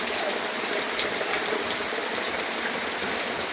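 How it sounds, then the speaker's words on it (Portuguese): Heavy rain pours steadily in Maceió, Alagoas, a dense, continuous close hiss of downpour with no letup and no voices. "Chuva. Muita chuva"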